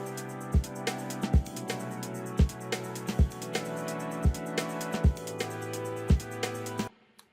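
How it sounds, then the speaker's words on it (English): Ableton Live loop of sustained synth chords over a basic electronic beat, with evenly spaced kick and snare hits repeating steadily before cutting off near the end. "Some chords and a basic beat."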